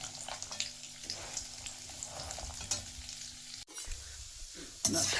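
Turmeric roasts in a pan with a constant close sizzle, while a spoon stirs and scrapes through it in irregular strokes, with a brief dip in the sizzle partway through.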